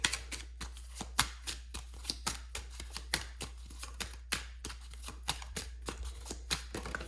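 Tarot cards shuffled by hand, a brisk, regular series of crisp riffling snaps repeated many times, close and clear with no voices.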